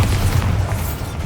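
Bombarda spell explosion in Hogwarts Legacy, a loud, close, rumbling boom that fills the whole brief moment with dense low-end blast noise.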